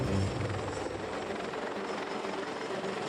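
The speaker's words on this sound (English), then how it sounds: "The helicopter is desperately trying to land on deck." A Danish Navy helicopter struggles to land on a ship's flight deck in heavy swell, its rotor and engine a loud, steady, throbbing roar with wind-like noise, continuous throughout.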